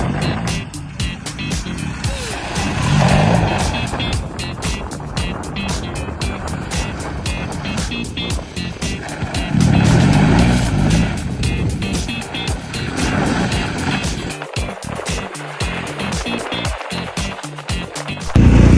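An off-road motorcycle power slides on a dirt trail, its engine loud and close with a rapid pulsing rasp that rises and falls as it revs through the turns.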